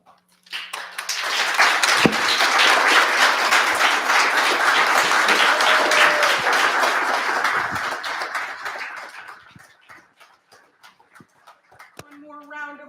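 An audience at a school reader's theater play applauds for about eight seconds, a dense, steady roar of many hands that thins and fades away before a voice begins speaking near the end.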